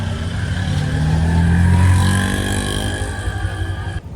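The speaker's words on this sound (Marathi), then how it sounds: "मी रिक्षात बसत आहे. रिक्षात बसलो" Auto rickshaw engine rumbling while riding on a crowded trip, a steady close droning with rising and falling revs and pitch before cutting off abruptly at the end.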